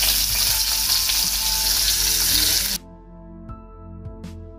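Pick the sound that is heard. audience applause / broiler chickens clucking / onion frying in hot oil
onion frying in hot oil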